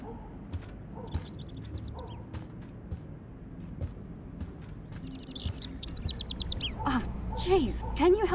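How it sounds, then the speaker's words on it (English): Bird chirps in the Life Is Strange video game, scattered light tweets early and a busier burst of calls toward the end, over a steady low ambient rumble. "can you help me get this bird out of here?"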